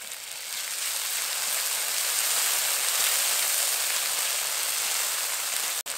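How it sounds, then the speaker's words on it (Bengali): Ginger and green chili paste sizzles in hot oil over fried onions as it is stirred, a loud, steady hiss that fills the whole stretch with no talking. "আদা বাটা দেওয়ার পর কিছুক্ষণ ভালো করে নেড়ে ছেড়ে নিয়েছি।"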